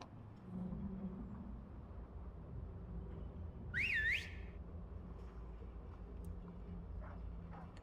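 A dog whistle in the Genshin Impact video game gives one rising, warbling tone lasting about half a second over a steady low rumbling background.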